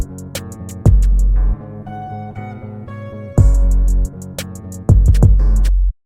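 Hook of a dark trap-style guitar beat, loud and upfront: guitar melody with crisp hi-hats and heavy booming 808 bass hits that drop in for a bar, then fall away for a bar, repeating across the passage.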